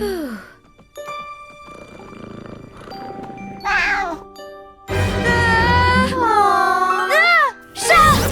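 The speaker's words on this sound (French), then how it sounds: "ce mignon petit chat a un mignon petit collier, exactement comme Super Miaouteuse avait." A cartoon cat with a collar lets out several drawn-out, bending meows and wails in separate bursts, loud and close, mixed with tinkling chimes and musical tones from an animated superhero episode.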